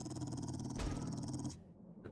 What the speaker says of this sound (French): Allez, encore un chien.